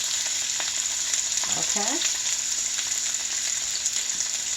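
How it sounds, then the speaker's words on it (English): Onions fry in olive oil in a skillet with a steady, even sizzle close up, and a speaking voice cuts in briefly once. "We're going to start frying the onions because I like mine a little grilled."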